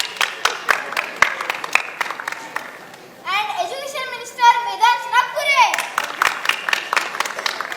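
A school drama audience applauds, with clapping starting sharply and swelling into a dense round of mixed hand claps and children's voices, framed by a person speaking before and after.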